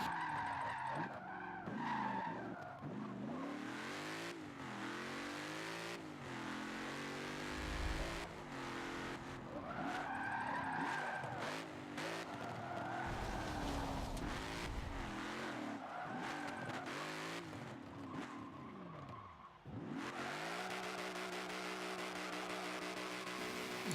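2015 Mustang GT drifting in the Forza 7 video game, engine wailing and rising and falling through long sustained tire squeals and skids, continuous and loud with no talk.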